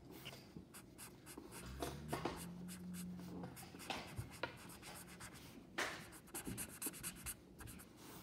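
Hair is drawn in yellow on paper with a coloured pencil or crayon, a faint, close scratching and rubbing of strokes in short, uneven bursts.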